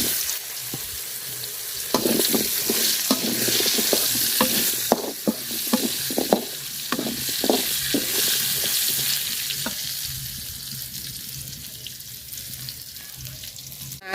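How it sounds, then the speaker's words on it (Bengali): Potato pieces frying in a pan of oil left over from frying small canal fish, a loud steady sizzle with repeated sharp scraping clicks of a spatula stirring throughout, close up. "মাছ ভাজার তেলে আমি আলুটি ভাজা নিব।"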